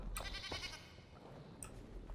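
A goat in the video game Enshrouded bleats twice, each call short and faint, as though from a distance or indoors, against a quiet background.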